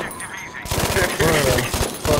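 Rapid MG42 machine gun bursts crackle in a Battlefield V match, a dense rhythmic stream of shots close by, with someone talking over the gunfire.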